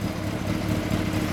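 A motorcycle fitted with an RC SUGO race-kit expansion chamber and muffler, its engine running steadily at idle up close, a continuous low rumble with no talking.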